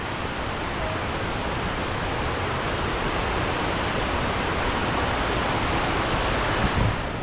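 Loud rushing river water at Watersmeet roars steadily as a dense, unbroken wash of noise with no voices over it.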